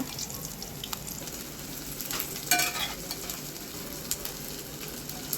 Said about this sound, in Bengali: ব্রাউন করে ভেজে নিব